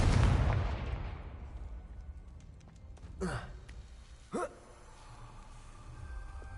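A Confringo fire spell in Hogwarts Legacy opens with a muffled burst. Two brief whooshing impacts follow over soft, low game ambience.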